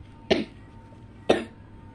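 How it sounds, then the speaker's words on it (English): Two sharp coughs about a second apart, close and fairly loud against a quiet background. "Oh, that was a big cough."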